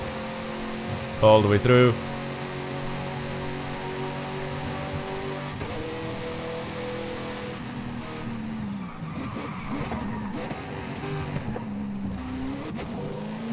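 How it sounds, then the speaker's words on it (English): A racing car engine at full throttle in a driving game, running as a steady, sustained drone with a short louder burst early on. Someone talks over it throughout while the engine hums underneath. "I just go full throttle"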